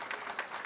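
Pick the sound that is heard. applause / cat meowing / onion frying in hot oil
applause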